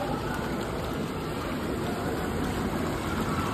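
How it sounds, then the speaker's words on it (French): A small jacuzzi at Center Parcs bubbles with a steady, dense churn of water that holds evenly for the whole stretch, close by and with no voices. "Regardez, petit jacuzzi."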